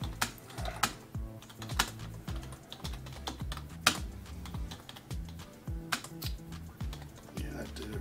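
Rapid typing on a computer keyboard as a reply is written, steady clusters of close, crisp key clicks with a few louder strokes over a low background hum.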